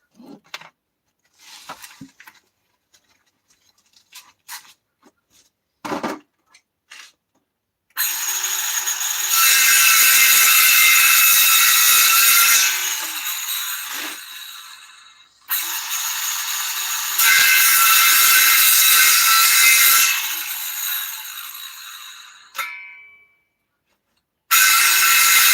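A power drill drives two screws into wood in two long, loud whirring runs, with scattered clicks and handling noises before them.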